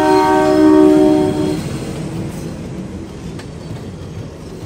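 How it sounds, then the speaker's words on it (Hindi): A train slowly pulls into a station at Goram Ghat in Marwar, opening with a loud horn blast, then a steady low rumble of rolling wagons that gradually fades. "ट्रेन बहुत स्लो हो गई है, आ रही है"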